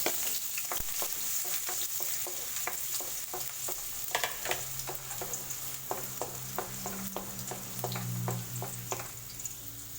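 Ginger sizzling in hot oil for chicken soup, a steady crackling fry with repeated sharp utensil clicks and stirring scrapes close by, no talking.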